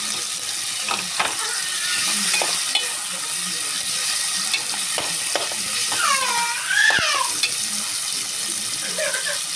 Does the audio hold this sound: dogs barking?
no